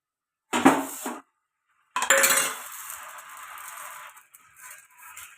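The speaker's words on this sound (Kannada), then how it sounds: "ಆಯಿಲನ್ನು ಹಾಕಿ ಒಂದು ಬಾಣಲಿ ಇಟ್ಟಿದ್ದೀನಿ" A metal frying pan with oil clanks down onto a stovetop, followed by a pause and then more rattling and scraping of cookware that fades into quiet.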